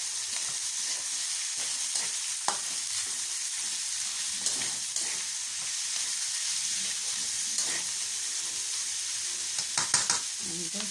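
Pork and liver with onion and garlic sauté in a pan, giving a continuous close sizzle and hiss broken by scattered scrapes and knocks as the pieces are stirred.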